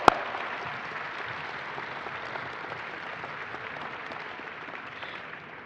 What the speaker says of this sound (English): Now's the time to clap.